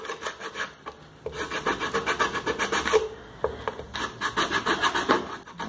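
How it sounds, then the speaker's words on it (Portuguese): Sandpaper rubbing over a painted MDF box, steady rhythmic rasping strokes close up, scratchy back-and-forth passes repeating throughout with no talking. "A tinta vai grudando tudo na lixa."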